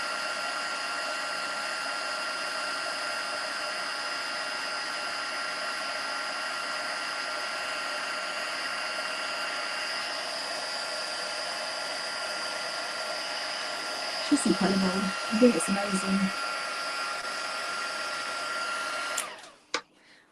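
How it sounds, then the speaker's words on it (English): Heat gun blowing for a ladybug card heat embossing session, a steady loud whooshing hum running nearly twenty seconds before cutting off, with someone speaking briefly over it near the end. "I absolutely love heat embossing"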